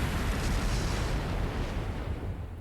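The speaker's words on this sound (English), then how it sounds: "Flash grenade! Everyone down!" A flash grenade goes off in the Trails of Cold Steel III video game, giving a dense, rumbling blast that roars steadily for a couple of seconds and fades slightly toward the end, with no voices.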